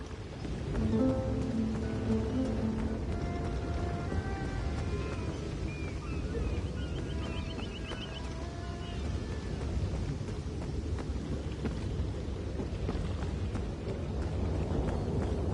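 A stormy scene in the game ESO, with steady rain hissing throughout and a low rumble underneath, faint tonal game sounds drifting in and out over the downpour.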